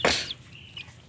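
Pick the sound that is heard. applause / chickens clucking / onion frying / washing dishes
chickens clucking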